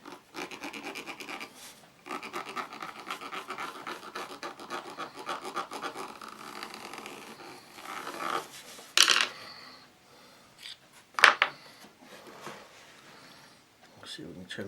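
A blade trims a kydex scalpel sheath, rough scraping and rasping strokes in rhythmic bursts, close up, with a couple of sharper clicks and knocks toward the end.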